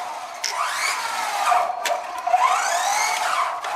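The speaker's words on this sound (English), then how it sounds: "I'm just giving like short bursts because" The electric motor of an Eachine EAT11 1/14 scale 4WD RC truck whines up in short repeated bursts, rising and falling pitch sweeps, close and fairly loud with a steady hiss beneath.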